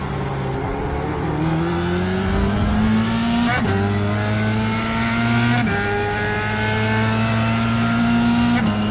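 F3 race car engine lapping Monza in iRacing, rising high-pitched revs repeatedly climbing through gears with sharp shift cuts, loud and continuous with no talking.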